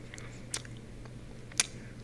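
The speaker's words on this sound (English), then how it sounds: "eat a couple of soft pretzels." Soft pretzels being eaten close to the mic, with quiet chewing and two distinct crisp bites or mouth clicks about a second apart.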